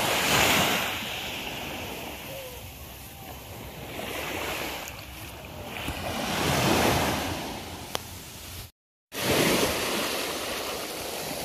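Ocean surf breaking on a beach at Pagudpud in Ilocos Norte, with swells rising and falling in loud broad washes and some wind noise on the microphone, cut by a brief dropout near the end.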